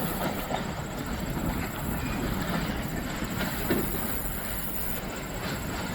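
A freight train rolls past close by in a steady, loud rumble with rhythmic clickety-clack from the wheels over rail joints and a faint high squeal riding on top, with no talk.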